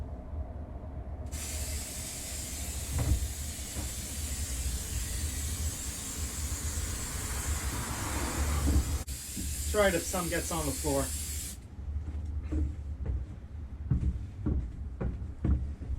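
A loud, continuous hiss of spray foam insulation being applied inside a campervan runs for about ten seconds, then cuts off, while someone talks over it and afterward.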